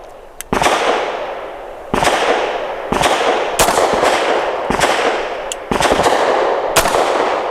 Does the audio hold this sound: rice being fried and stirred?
no